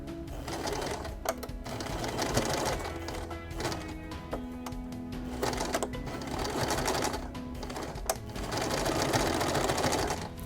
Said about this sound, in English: I take my sewing machine and go to the end of my elastic here.